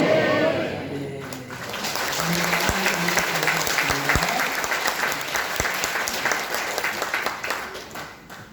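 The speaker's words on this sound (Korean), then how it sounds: "놀라운 말씀을 선포해 주신 우리 초청 강사님 이승현 목사님께 다시 한번 박수 올리겠습니다." Sustained applause from an audience at a church Bible seminar, a dense, steady clapping that fills the room at close range, with a few voices faintly mixed in.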